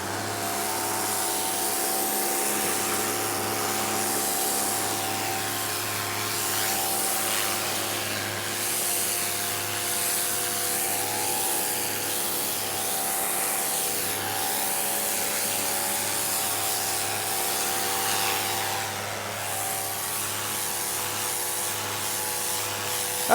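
An electric pressure washer with a turbo nozzle runs continuously, giving a steady motor whine layered with a dense spraying hiss at an even level throughout.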